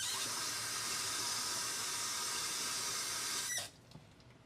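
Water runs steadily while a bedpan is rinsed into a toilet, a continuous hissing flow close by that cuts off abruptly near the end, leaving a faint drip and quiet room tone.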